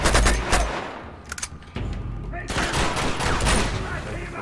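Gunfire in Uncharted 2, with bursts of shots and impacts that come and go over the whole stretch under a constant game soundscape, loud and close.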